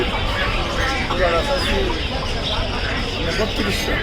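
Chickens cluck and call at a crowded bird market in Tongi, with a dense hubbub of voices and people talking throughout.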